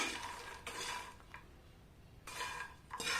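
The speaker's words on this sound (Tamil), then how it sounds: "நல்லா மிக்ஸ் ஆக வர்றது வரைக்கும் நல்லா கிண்டி கொடுத்துக்கோங்க" A spoon stirring fried lotus seeds (makhana) coated in masala in a pan on low heat, with bursts of close scraping and rattling separated by brief quieter pauses, no talk.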